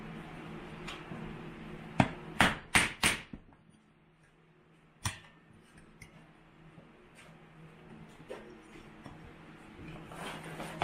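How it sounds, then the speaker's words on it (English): Sharp metallic taps from hammering down a rivet on a camera tripod mount, a quick cluster of four strikes followed by one more, close and fairly quiet against a faint room hum. "Now I can pound that down."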